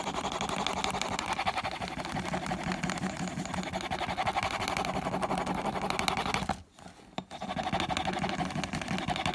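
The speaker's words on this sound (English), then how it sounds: "I can finish slicking the edge up." A slicking tool rubbed rapidly against the edge of a leather cowboy fast-draw holster gives a steady, close, buzzing friction drone that runs continuously, pauses briefly near the end, then resumes.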